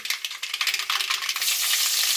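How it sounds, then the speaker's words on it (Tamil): Mustard seeds splutter and crackle in hot oil in a pan, a dense, steady stream of close popping that builds toward the end, with no voices. "கடுகு வந்து பாருங்கள் பொறிக்க ஆரம்பிக்கும்"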